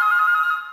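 A phone ringtone plays steadily and loud on its own for under a second, a sustained electronic tone that fades slightly toward the end, from a phone being called.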